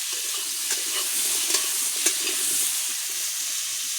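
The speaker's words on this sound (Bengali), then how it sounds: "সুন্দর করে লাল লাল করে আলুগুলো ভাজা করে নেব" Potatoes fry in hot oil until golden red, producing a continuous close sizzle. Occasional soft stirring scrapes and taps cut through the hiss.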